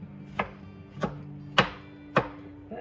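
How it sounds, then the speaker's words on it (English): A knife chops the scooped-out insides of a zucchini on a cutting board: four evenly spaced, crisp, close chops over a quiet low hum, no voices. "I'm just going to cut up this little bit that came out of the inside"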